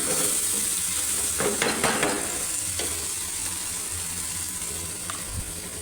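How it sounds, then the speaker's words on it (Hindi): Tomatoes and onions being mashed with a spoon in a cooking pan, a steady sizzle with scraping strokes of the spoon and a few brief clinks against the pan, close and alone. "यहाँ ना मैंने चमचे से अच्छी तरह मैश कर लिए टमाटर भी, प्याज भी"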